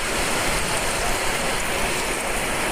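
Heavy rain pours steadily and loudly, a dense unbroken hiss of drops close by during a downpour, with no voices.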